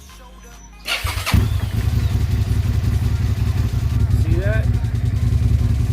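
Motorcycle engine cranks and starts during an oil change, then settles into a steady close, loud idle rumble, with someone speaking briefly over it.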